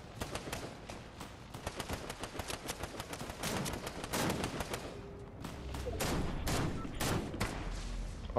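Rapid gunfire crackles in an online trios shooter match, dense bursts of shots and automatic fire overlapping continuously at close range, loud and sustained with distant reports mixed in.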